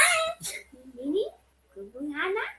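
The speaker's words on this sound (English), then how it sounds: "That's a cat, I guess." A cat meows twice in short, rising calls with a pause between them, close and fairly clear against a quiet room.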